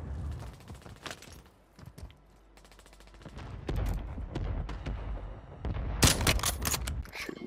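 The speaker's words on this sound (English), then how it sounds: "Shooting 2 dudes over here." Gunfire in Call of Duty Warzone: scattered shots and short bursts at first, then heavier sustained automatic fire with a loud close volley near the end, all without talk.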